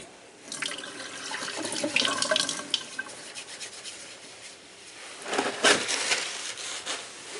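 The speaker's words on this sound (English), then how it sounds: "First thing I'm going to do is wash my hands with soap and water at the sink over here." Hands being scrubbed with soap under a running tap at a sink, steady water flow with wet rubbing and splashing that swells and fades, close by and without talk.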